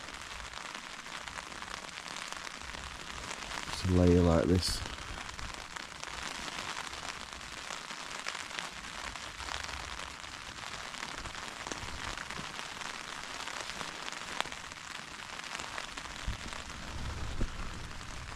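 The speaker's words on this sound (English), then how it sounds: "No wind, just all the rain. But is that not just a nice peaceful sound?" Heavy rain drumming steadily on a tent during a windless night of wild camping at Dale Head Tarn, a dense continuous patter close overhead, with a brief spoken remark partway through.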